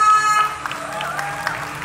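An audience applauds a music trio at a Batak music festival tribute concert, with a steady wash of clapping over sustained musical tones and some crowd noise throughout.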